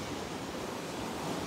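Sea waves at a free public beach give a faint, continuous wash of surf, a soft even roar without distinct breaks or voices.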